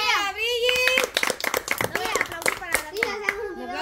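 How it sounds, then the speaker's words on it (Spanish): Several people clap in quick, scattered bursts, loud and close, while children and adults talk and call out over the clapping. "¡Aplausos para la Virginia!"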